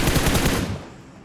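Rapid automatic gunfire from a PUBG Mobile match: a dense, loud burst of shots close by that cuts off and fades into a short tail, with no talking.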